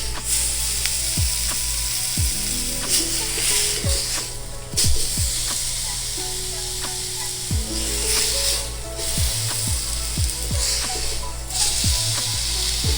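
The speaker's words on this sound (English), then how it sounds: "Oh, that side's even better seared." A chuck roast sears in a hot pan with a steady, close sizzle that holds throughout. Repeated scraping and clicking knocks sound on top of it as the meat is pressed and moved.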